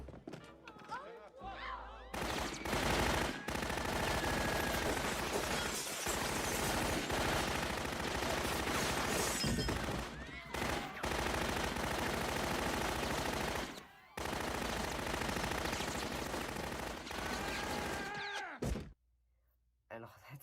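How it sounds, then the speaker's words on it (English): Tommy gun fire during a Star Trek scene, dense bursts of rapid shots mixed with loud continuous scene audio and voices, cutting out briefly near the middle and end. "it's pretty cool seeing Captain Picard use a Tommy gun."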